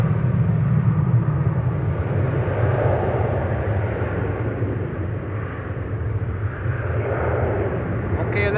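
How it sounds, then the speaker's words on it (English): A KLM Boeing 737 taking off from runway 18 left at Amsterdam Schiphol, a broad steady jet roar and low rumble holding loud throughout, with a voice talking over it. "KLM 737's taking off from 18 left."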